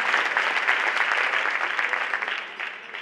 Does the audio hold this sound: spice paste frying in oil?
no